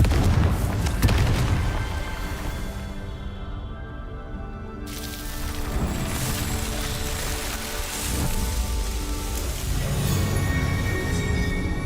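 A Confringo fire spell explodes in Hogwarts Legacy, a heavy booming blast over dense crackling game sound and music that carries on steadily after the hit.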